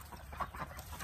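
Easter Egger chickens cluck softly in a few short, close murmurs over a quiet farmyard background, with no talking.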